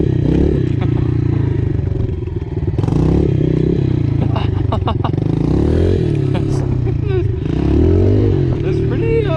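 A pit bike engine runs in first gear, a close, loud, continuous buzzing drone that rises and falls with the throttle, with clattering and a voice speaking over it.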